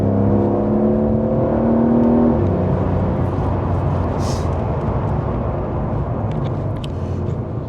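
Porsche 911 GTS T-Hybrid engine through its standard exhaust, a loud, close, steady drone with a rising tone at first, then a deeper sustained rumble as the car pulls on the road.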